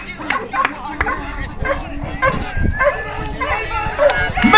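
A dog at a dog jumping contest gives short excited barks and yips amid a noisy, chattering crowd and an announcer's voice.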